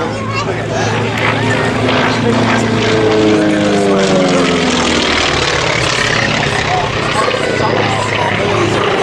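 A North American Mustang propeller fighter flies aerobatic loops and rolls at the Wings Over Illawarra airshow, its loud engine roar rising and falling in pitch as it sweeps past, with spectators' voices under it.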